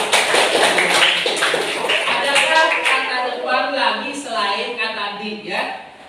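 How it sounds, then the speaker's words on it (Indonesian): Students in a classroom break into a short round of clapping, brisk and close, fading as a teacher's voice speaks over it. "Oh, bagus. Ya, tepuk tangan"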